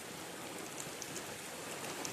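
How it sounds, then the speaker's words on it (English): Steady rain falls as an even, continuous broadband hiss with no clear individual drops, holding a constant level from start to finish with no voices. "The rain's been falling steady since 9:45."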